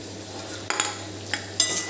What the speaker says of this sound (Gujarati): હવે આને આપણે એક વખત આવી રીતે મિક્સ કરી લેવાનું